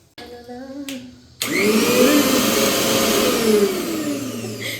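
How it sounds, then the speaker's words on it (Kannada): A kitchen mixer grinder grinds onion, tomato, ginger and garlic: a brief low hum gives way to a loud, steady motor whir and whine that runs unbroken to the end. "ಮಿಕ್ಸರ್ಗೆ ಉಳ್ಳಾಗಡ್ಡಿ ಟಮಾಟಿ ಶುಂಠಿ ಬೆಳ್ಳುಳ್ಳಿ ಮಿಕ್ಸರ್ಗೆ ಹಾಕೋತೀವಿ"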